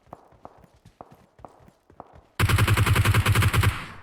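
Gunfire rings out in the video game PUBG Mobile: a few spaced single shots, then a loud rapid automatic burst lasting over a second, sharp and close.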